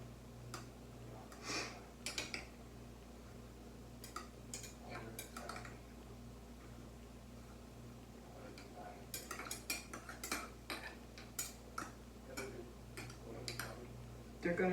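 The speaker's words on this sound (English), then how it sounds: "I'm also going to get a knife, just stir it around a bit to get some of those seeds and stuff down into the onions" A knife stirring pickled onions and seeds inside a jar, giving sparse light clinks and taps of metal against glass, scattered irregularly over a low steady hum.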